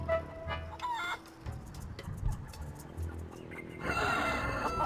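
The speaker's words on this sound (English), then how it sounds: "Let's examine these chickens." Feral chickens on Plunder Island in The Curse of Monkey Island cluck and squawk in short, irregular bursts, close and fairly loud, with a brief crowing-like call near the end and no talk.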